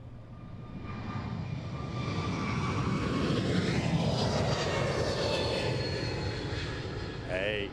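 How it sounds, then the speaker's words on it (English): An Embraer E190-E2 jet airliner at an airshow begins its takeoff run, a loud, steady jet roar that swells and holds throughout, with a brief chirp near the end. "the Embraer, the E190-E2, starts his takeoff run"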